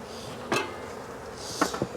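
Honeybees fly around a mini mating nuc in Jacksonville, Florida, with a soft insect hum and a few brief, faint buzzes from bees passing close by.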